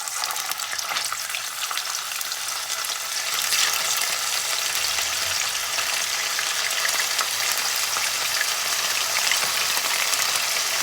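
Fermented pork bones (naem) fry in a pan of hot oil with a loud, continuous sizzling hiss. It swells slightly a few seconds in and then holds steady, with no voices over it.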